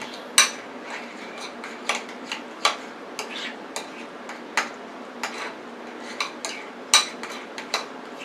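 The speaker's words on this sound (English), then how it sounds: "And now we're going to mix that up." Tartar sauce being mixed in a bowl: a utensil clinks and taps against the sides in a loose, repeated rhythm, close and crisp over quiet background, with no voices.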